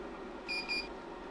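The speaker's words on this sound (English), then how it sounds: "You will be alerted to remove any remaining seed chocolate by the flashing Seed Out button, which is accompanied by a series of beeps" Two short, high electronic beeps from a chocolate tempering machine sound in quick succession, clear but not loud, against a quiet background hum.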